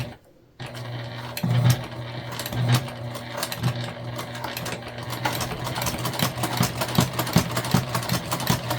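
A freshly oiled sewing machine fitted with a noisy walking foot sews the three sides of a lunch bag, starting after a brief silence and then running as a continuous close rhythmic clatter.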